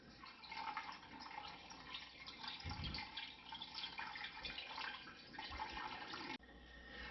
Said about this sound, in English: So we'll pour our bucket through nice and slow. We don't want to slop it over the side of the filter.